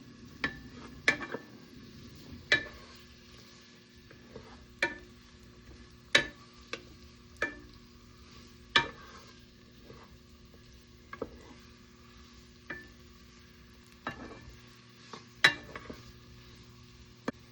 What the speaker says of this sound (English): we're gonna throw in our garlic, our diced garlic and onion mixture. Throw that into the pot.